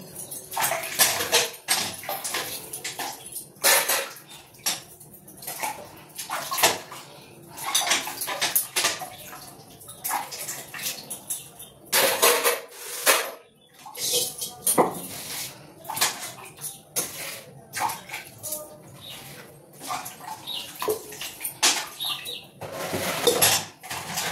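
Puja utensils, pots and dishes being washed, with metal clattering and clinking in irregular bursts close by, joined by splashes of water.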